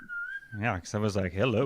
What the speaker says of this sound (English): if you can hear the bird whistling in the background